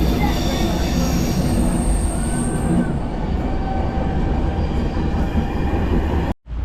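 A Paris RER commuter train rolls along loudly and steadily with a dense rumble, rail noise and a high wheel squeal, until a brief sharp drop near the end.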